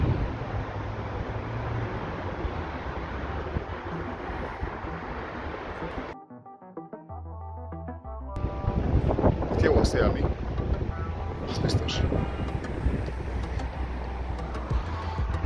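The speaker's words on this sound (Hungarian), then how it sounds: "baromi nagy a szél" Strong outdoor wind buffets the microphone in heavy low rumbling gusts, near and loud throughout, briefly dropping out mid-way before the blustering returns even harder.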